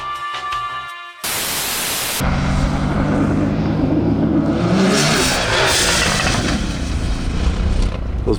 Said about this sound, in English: Those pops sound sweet in the air.